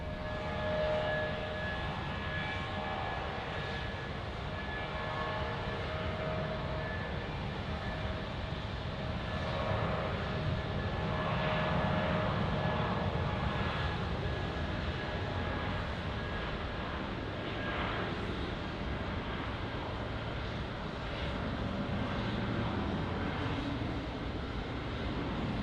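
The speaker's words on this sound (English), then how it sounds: "And Max, where's this Jetstar going? Sydney" A Jetstar airliner takes off at Melbourne Airport, its engines producing a sustained broad roar and rumble that swells slightly and holds for a long stretch, heard from a distance with no talking.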